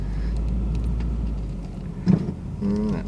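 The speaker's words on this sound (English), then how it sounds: "That was just the bottom of the ground hitting the car." Deep sand thuds and scrapes against the underside of a Subaru car driving through sandpits at night, a sharp knock over a steady low road rumble.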